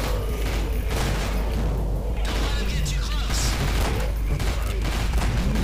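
Allied soldiers fire steady bursts of gunshots in the video game Nightmare House 2, with rattling volleys and thuds layered over a constant low rumble. No one speaks.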